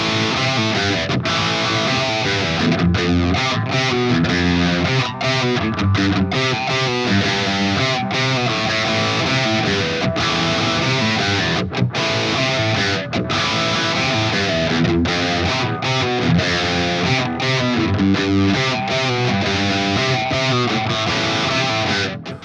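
A heavily distorted Ibanez RGMS8 8-string electric guitar plays loud, chugging riffs continuously, with no voices.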